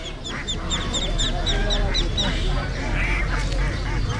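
Many ducks quack in rapid, overlapping bursts at a crowded village duck market, loud and close, with a steady wash of crowd noise and voices underneath.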